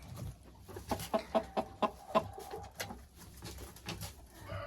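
A hen about to lay an egg gives a quick run of six or seven rhythmic clucks close by, then goes quieter against faint background noise.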